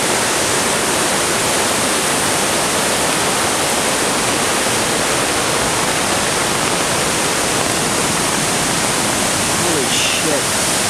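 Rushing floodwater at The Basin, a loud, dense, unbroken roar of churning water filling the scene from start to finish, with voices nearby partly lost under it.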